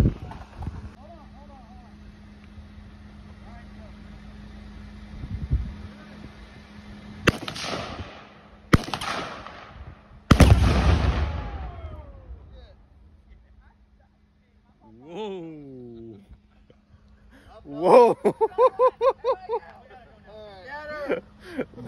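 Three loud, sharp AR rifle gunshots ring out outdoors a second or two apart, each with a booming echo that fades away. Excited voices follow, talking and laughing.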